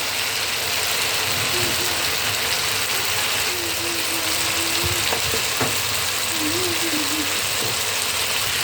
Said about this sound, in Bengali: এবার আমি সব একসঙ্গে করে নাড়িয়ে নিচ্ছি